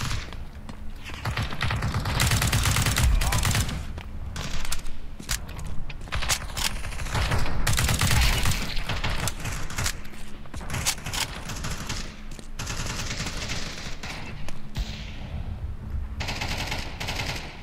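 Rapid bursts of Counter-Strike 2 gunfire rattle continuously, with automatic weapons firing in dense volleys and occasional heavier booms, loud and close.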